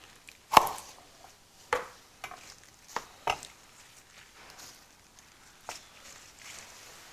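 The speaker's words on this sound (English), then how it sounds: "And you can coarsely chop this up." A knife coarsely chops kale on a cutting board in a Malaysian home kitchen, a handful of sharp, irregular chops with quiet pauses between them, close and fairly soft.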